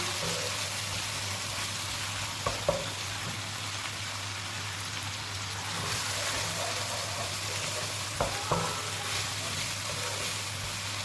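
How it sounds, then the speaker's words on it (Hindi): Chicken pieces and tomatoes fry in a pan with a constant soft sizzle, while a spoon scrapes and stirs in a few short knocks around the middle and near the end. "इसको भी इसके साथ शामिल करके तो अच्छे से मिक्स कर लेंगे, ताकि ये टमाटर अच्छे से सॉफ्ट हो जाएं।"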